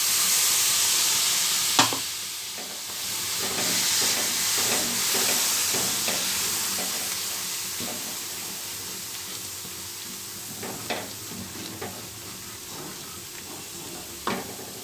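Soya chunks and tomato puree sautéing in a pan, a steady close sizzle and hiss with occasional stirring clicks and scrapes throughout, fading slightly toward the end.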